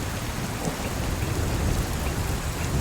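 Steady heavy rain and a thunderstorm roll on as a dense, unbroken roar with low rumbling throughout, no voices present.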